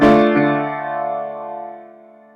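Piano playing a measure of a song, a loud struck chord with a second hit just after, ringing out and slowly decaying, alone without talk.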